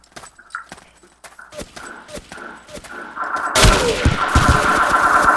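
Gunfire in Ace of Spades: a string of sharp, separate shots in the first seconds, followed by a louder, dense burst of firing and noise near the end.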